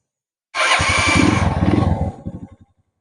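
A Honda TMX 125 Alpha motorcycle engine, recently reassembled, fires up loudly close by, then sputters and dies with uneven popping pulses fading out over a couple of seconds.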